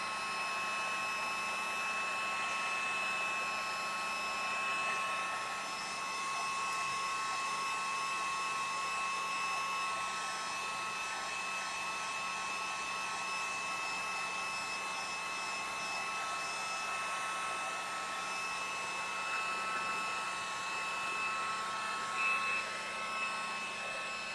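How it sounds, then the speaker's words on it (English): A heat gun blows continuously to dry a painted craft surface, a loud, steady, close whooshing hum with a faint high whine that holds unchanged throughout. "Heat gun."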